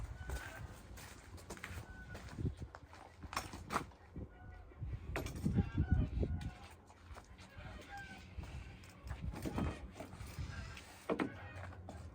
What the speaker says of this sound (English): Don't mind all the noise from the chickens.